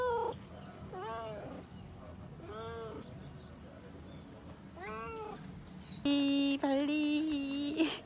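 A cat meows several times in short separate calls outdoors on Bali, with a sustained tonal sound near the end.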